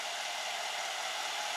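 A Mercedes engine idles while under misfire diagnosis with cylinder pressure testing, giving a steady, continuous mechanical hum and rumble, close and even throughout, with no voices.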